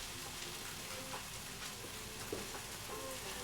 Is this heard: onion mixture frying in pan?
yes